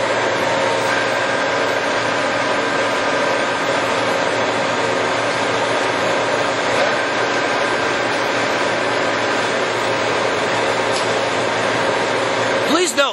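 A Cincinnati No. 5 horizontal milling machine with a 20 horsepower main drive, its table traveling under power to the right, gives a steady, continuous mechanical drone and whine throughout, fairly loud and close, with no speech.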